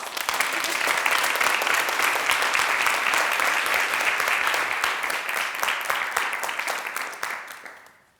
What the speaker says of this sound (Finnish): Toivotetaan aplodien saattelemana lavalle tervetulleeksi Ari Evaraje.